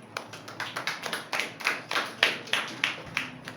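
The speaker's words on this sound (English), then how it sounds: "Clap for him." A small group claps for a student after an essay presentation in a classroom, a short run of uneven, fairly close hand claps that fades after about three seconds, with no talking.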